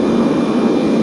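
Boeing 737-500 jet engines in the Aerofly FS flight simulator, a loud, steady, dense roar with no breaks.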